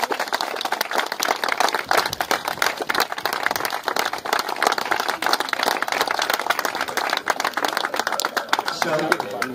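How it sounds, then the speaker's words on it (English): An audience at a community fun day trophy presentation applauds the event organisers, with brisk, sharp, close clapping from a modest crowd running steadily throughout, with some voices mixed in. "Can we give them all a round of applause?"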